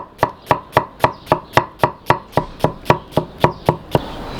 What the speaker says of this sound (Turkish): Öncelikle soğan ve biberleri doğrayacağız.